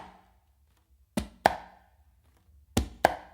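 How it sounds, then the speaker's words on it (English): Conga drum played in a bossa nova pattern: four sharp, close hand strikes in two quick pairs, each pair a muted tap followed by a crisp slap, dry and alone. "so your dominant hand can do a close slap on the conga"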